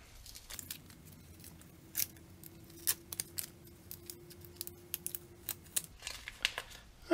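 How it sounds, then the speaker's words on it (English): Blue painter's tape peeled off a freshly painted radar eye on a full-size R2-D2 build, giving a close series of short crackly snaps and tearing bursts over a steady low hum, with no talking. "let's take off blue tape and see how it came out"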